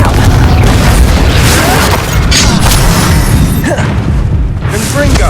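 The Incendio fire spell in Hogwarts Legacy sends out a sustained, loud roaring rush of flame and booming impacts. It fills several seconds with continuous crackling battle noise, and voices are faintly mixed in.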